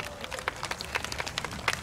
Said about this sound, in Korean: 여러분 박수 환영해 주세요.